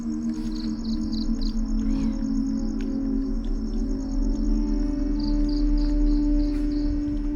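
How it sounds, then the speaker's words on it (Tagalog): High, repeated bird calls pulse faintly against a quiet background with a low steady hum underneath. No voices. "Nakakatakot yung ano, yung tunog ng ibon."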